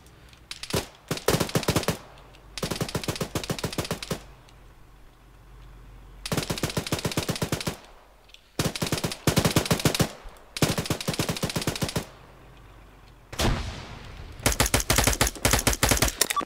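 Rapid automatic gunfire from an Arma 3 firefight comes in repeated bursts of one to two seconds, loud and close, separated by brief quieter gaps.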